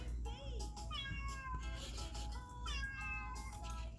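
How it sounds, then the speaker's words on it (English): A cat meows repeatedly, several drawn-out, rising-and-falling calls close by, over a low background hum. "This sounds like a real cat."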